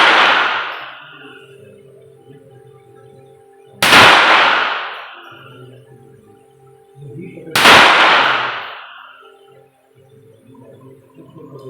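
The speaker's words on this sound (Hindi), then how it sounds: "अब जैसे कि मैंने 5 शॉट फायर किए" Pistol fired at a 25 m shooting range, three sharp loud reports about four seconds apart, each ringing out with reverberation and a brief trailing echo, with low background murmur between shots.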